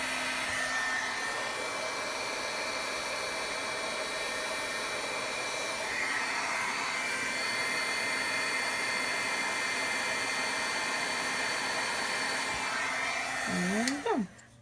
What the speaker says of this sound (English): And get out a heat tool